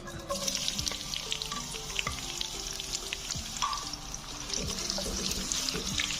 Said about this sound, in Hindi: जैसे हमारा ये घी गर्म होता है, इसमें मैं एक मीडियम साइज़ का प्याज लिया है, ये स्लाइस कट में ये डाल रहा हूँ।